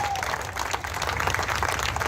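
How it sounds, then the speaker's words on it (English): Audience applause at the Deer Creek Speedway fills the clip with a dense, steady wash of clapping from a grandstand crowd, fairly loud and continuous throughout. "Give James a nice round of applause."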